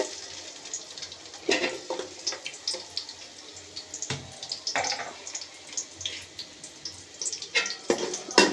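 Onions dropped into hot oil left from frying crisp onion garnish for a white milk pulao sizzle and hiss close by, with bursts of crackle and stirring clatter, no speech.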